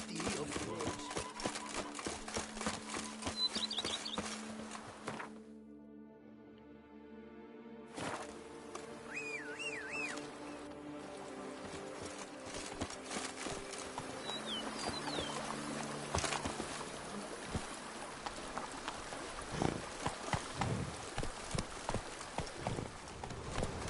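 Hooves of Roach, a horse in The Witcher 3: Wild Hunt, clip-clop in a steady rhythm alongside game music and ambience, with a short near-silent break partway through before the trotting resumes.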